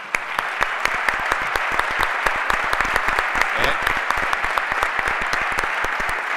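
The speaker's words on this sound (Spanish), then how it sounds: "ahora sí que os pedimos un aplauso para todos los que quedan" A conference audience at the Rooted CON 2015 security event applauds a panel, a bright continuous wash of clapping with sharp individual claps popping out near the microphone, steady and loud for several seconds.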